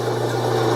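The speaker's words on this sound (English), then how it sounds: "sand out any scratches in the wood" Flexible fabric-backed sandpaper rubs against a wooden chess pawn in one steady, close, raspy scrubbing sound.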